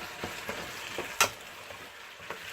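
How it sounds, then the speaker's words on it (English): Chicken pieces sizzle in a hot pan for Thai yellow curry, a soft steady frying hiss broken by small pops and one sharper crackle as the meat is stirred, fairly quiet and close. "Nice initial hot sizzle."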